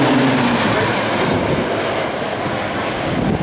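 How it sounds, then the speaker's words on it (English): Seven Pilatus PC-9 turboprop trainers fly past in formation at an air show, a loud, close roaring engine drone that sweeps past and holds steady throughout, with no talking. "Count correctly, you'll see 7 PC-9s here."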